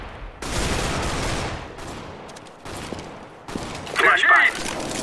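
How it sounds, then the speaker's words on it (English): A flashbang grenade thrown in CS:GO on the Inferno map lands among bursts of gunfire, with a bright ringing burst near the end standing out over the game noise; no one talks. "I am throwing a flashbang"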